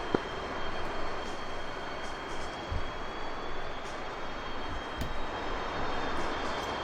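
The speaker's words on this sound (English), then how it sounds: "Yeah, this is the MiG-19P" A MiG-19P jet in the combat flight game DCS, its engines giving a continuous broadband roar with a thin steady whine above it, holding an even level from start to finish with no talking.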